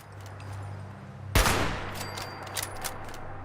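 Protectron robots open fire in Fallout 76, one sudden loud burst of gunfire cutting through a low hum, followed by a ringing tail and a few fainter distant shots.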